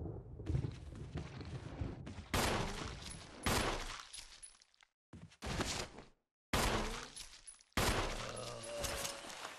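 Gunshots in a Resident Evil game, loud separate blasts with sharp echoing tails and short silent gaps between them.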